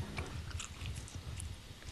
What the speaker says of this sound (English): That chewing sounds delicious